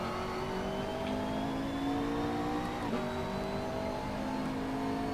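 A car's engine in the Assetto Corsa racing game drones steadily at a low, even pitch while driving slowly in an online race, briefly dipping in pitch partway through before settling again.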